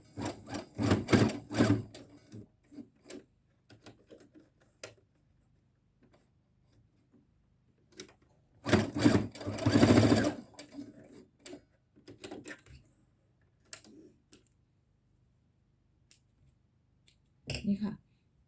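A sewing machine stitches a shirt neckline in short rattling bursts at the start, in the middle and at the very end, separated by quiet pauses and light handling sounds.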